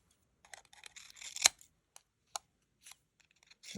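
Scissors trim paper in a series of quiet, close snips and crisp cuts, irregularly spaced with short rustles between them and no talking.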